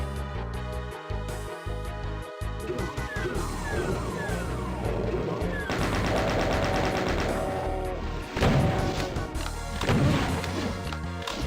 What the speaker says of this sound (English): I mean, I have a rocket launcher.